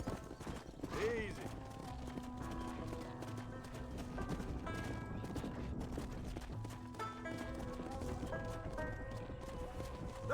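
Horse hooves clop in a quick, steady rhythm in the Western video game Red Dead Redemption, mixed with whinnies, background music and character speech layered over the galloping.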